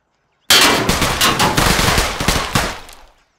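Sustained burst of rapid gunfire at a military training setting, loud and dense, with shots closely spaced over about three seconds before cutting off.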